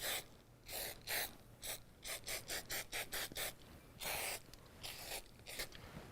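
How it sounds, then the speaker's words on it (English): Cooking spray from a can is sprayed into a baking dish in a series of short, sharp hissing bursts, some quick and clustered and a few longer, close by and fairly quiet. "We wanna spray the dish."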